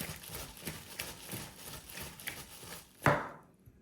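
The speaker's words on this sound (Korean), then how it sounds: "마늘을요 좀 듬뿍 편을 쳐갖고 넣습니다" Garlic being sliced with a knife on a board, a series of quick, fairly faint rhythmic cuts ending in one louder chop.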